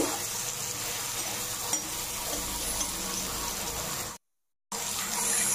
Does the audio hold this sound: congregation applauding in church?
no